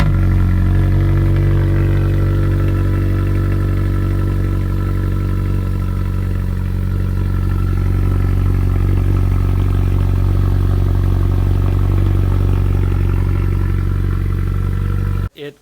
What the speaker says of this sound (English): let you guys hear a cold start of his Racing Beat exhaust